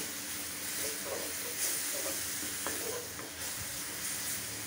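Garlic frying in a pan for a sweet-sour taro dish gives a constant, hissing sizzle with a few soft stirring scrapes. The sound is close but fairly quiet.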